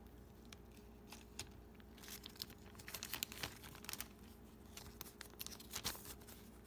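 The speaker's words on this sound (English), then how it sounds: "I am going to open this 6 pack of McDonald's Happy Meal toys." Plastic packaging of a six-pack of McDonald's Happy Meal toys being opened, with steady close crinkling and a few sharp tearing bursts, no talking.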